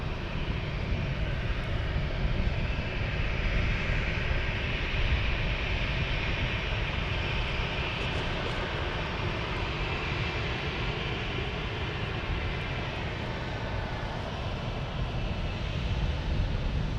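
A Southwest Boeing 737 jet departs, its engines a steady, broad roar that holds loud and continuous throughout with no voices.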